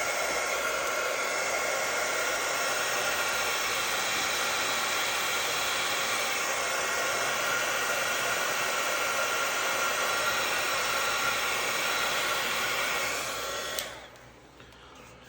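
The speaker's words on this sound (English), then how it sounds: "Mind the dryer." A hair dryer blows with a steady, loud whooshing hum for a long stretch, then switches off abruptly near the end.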